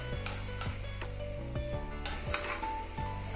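Ghee and gram flour being stirred into hot sugar syrup for Mysore Pak, a steady sizzle with repeated scraping strokes of a spoon in a pan, close and continuous with no talk.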